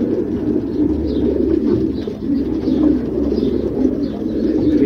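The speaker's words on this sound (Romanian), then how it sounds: "Deci așa voi proceda cu toți porumbeii, le dau drumul" Breeding pigeons coo continuously close by, several birds overlapping in soft low murmurs with no pauses.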